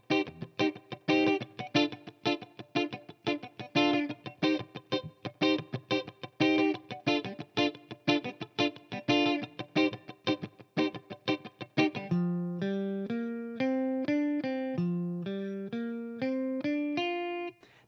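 Guitar playing a two-chord groove: choppy, rhythmic chord stabs for about twelve seconds, then a smoother passage of separate ringing notes climbing and falling.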